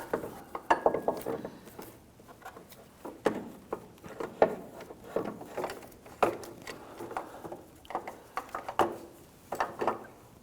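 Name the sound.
sliding new Volvo S60 belt tensioner into place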